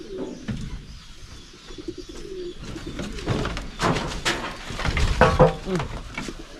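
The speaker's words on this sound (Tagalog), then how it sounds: "Ay, isa naman kalapati." A pigeon coos near a spot where it seems ready to lay eggs, low soft calls rising through a busy background with voices talking and chirps, growing louder toward the end.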